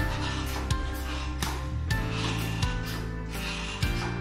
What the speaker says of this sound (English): That's the tire rubbing on the ground.